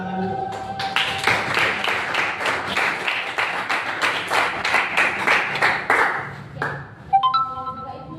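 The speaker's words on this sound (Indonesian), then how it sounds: "Berikan tepuk tangan dulu." An indoor school-event audience claps together in a steady, even burst of applause lasting several seconds, with an electronic tone held underneath before the clapping starts and a brief chiming sound after it fades.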